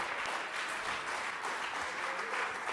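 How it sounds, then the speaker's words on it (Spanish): Sustained applause from a church congregation, dense clapping steady and loud throughout with no break. "dele un fuerte aplauso."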